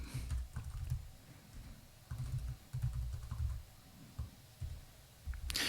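Computer keyboard typing at a coding session, a run of clustered key clicks and taps with brief pauses, close and fairly quiet.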